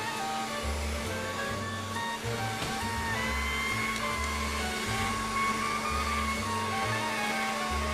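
A pasta machine, shown at La Piazza 2006, rolls out thin lasagna dough sheets with a steady motorized hum and repeating low thumps as the dough feeds through, loud and close with no talking.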